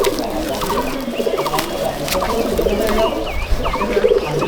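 Pigeons coo in a loft in Malda district, a dense chorus of repeated throaty coos with scattered chirps, steady and fairly close throughout.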